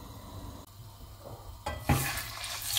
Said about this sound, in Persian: میخوام مرغام رو داخل این قابلمه که توش دارم روغن میریزم حسابی سرخ کنم